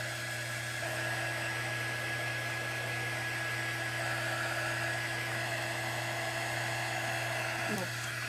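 A hair dryer runs steadily and fairly loud throughout, blowing on a book to dry it, a constant whirring hum with a brief catch near the end.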